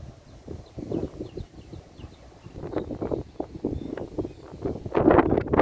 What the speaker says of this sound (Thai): โอ้ลมแรงครับท่านผู้ชมเช้านี้